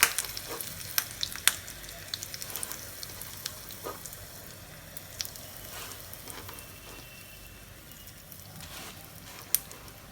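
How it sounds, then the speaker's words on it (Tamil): Curry leaves and then a pinch of asafoetida go into hot ghee in a small pan for kodo millet pongal. A soft, steady sizzle runs throughout, with sharp crackles and pops early on that grow sparser. "இப்போ நெய் சூடாயிடுச்சு. அதில் வந்து நான் கருவேப்பிலை போட்டுக்கிறேன் முதல்ல. அப்புறம் அதில் பெருங்காயம் போட்டுக்கிறேன் கொஞ்சம்."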